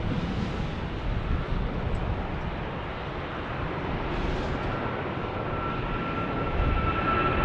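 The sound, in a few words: departing airplane flying by at Phoenix Sky Harbor Airport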